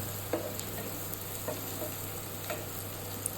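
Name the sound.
bitter gourd frying with turmeric in a pan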